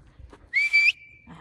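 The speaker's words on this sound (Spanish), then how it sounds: "Yo sí chiflo fuerte" A person gives a single loud, sharp whistle, a piercing high note held for under half a second that tails off, with faint background murmur around it.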